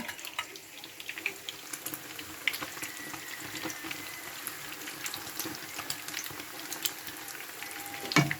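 Egg with mussels frying crisply in oil, a faint, steady crackling sizzle with scattered pops and spits continuing throughout.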